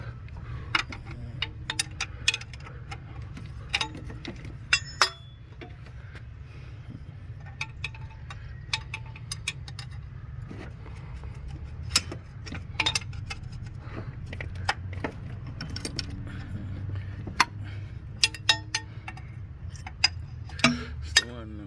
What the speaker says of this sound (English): Try and get these bolts out.